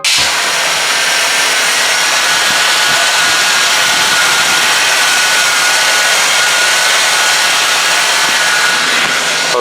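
A loud, steady car engine idles continuously during carburetor idle adjustment, a dense mechanical roar and hiss with no talking.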